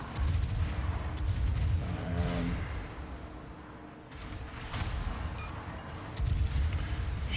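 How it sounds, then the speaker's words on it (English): Warship secondary guns fire in World of Warships, a rapid run of booming shots and rumbling blasts that rises and falls over several seconds, fairly close and loud with no talking. "his secondaries are going crazy towards me"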